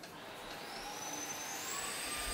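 A household vacuum cleaner runs steadily with a loud broadband roar and a rising motor whine, continuous and close throughout.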